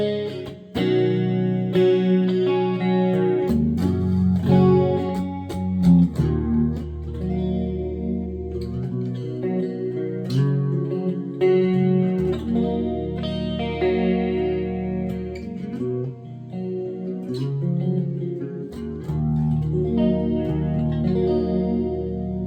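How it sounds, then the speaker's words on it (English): Electric guitar plays chords and single notes through a Roland JC-40 stereo combo amp's shimmering, warbling chorus effect with slight grit, heard alone. "hear more of the effect of the chorus"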